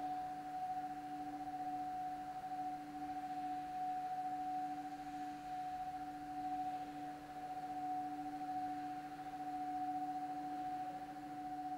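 A static electronic chord of two steady sustained tones whose pitch drifts by microtonal amounts as pendulums swing, heard alone as a continuous drone in a former monastery space.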